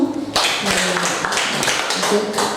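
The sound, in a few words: audience applause for Pak Kasno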